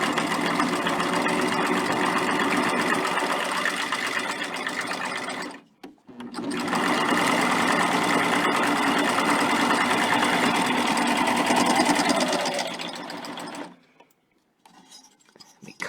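A sewing machine stitches double-fold bias binding onto a quilt block, running in long steady bursts with a brief pause midway, then stopping near the end.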